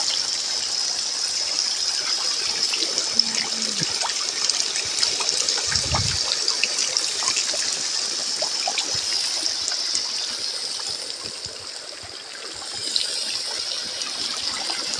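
Irrigation water trickling and gushing steadily into a garlic field, a continuous bright wash of flowing water heard close, with a brief low thump midway and no voices.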